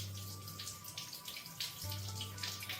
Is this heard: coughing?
no